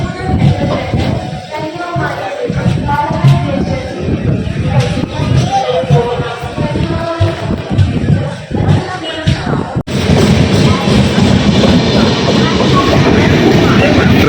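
An express train running on rails in rainy weather near Ernakulam North, a loud continuous rumble with rhythmic clatter of wheels on the track, a sharp change in tone partway through, with voices mixed in.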